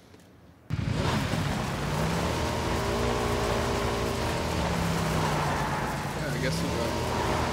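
A motorbike engine in PUBG starts abruptly after a brief quiet moment, then holds a loud, continuous drone that wavers slightly as the bike rides off, with faint voices underneath.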